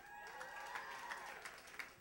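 An audience at a live community café event in February 2011 gives faint, distant applause, a steady patter of clapping with light cheering underneath.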